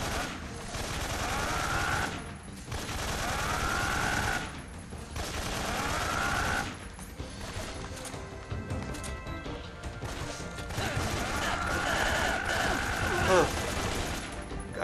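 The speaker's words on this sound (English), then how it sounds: "Yeah, the game slowed down then that we're shooting this massive gun." Heavy automatic gunfire from a massive gun in the video game Metal Gear Solid 3 comes as dense, loud bursts with crashing impacts, pausing briefly between volleys over about fifteen seconds.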